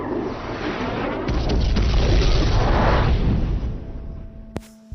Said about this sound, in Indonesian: Jet tempur akan meledakkan tempat itu